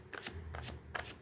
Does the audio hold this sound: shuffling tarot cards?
yes